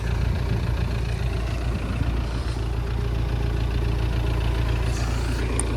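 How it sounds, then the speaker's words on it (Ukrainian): An Audi A4 TDI Quattro diesel engine idles with a steady, low, rumbling chug throughout, loud and close, with no voices. "Двигун працює, як і має працювати, в принципі."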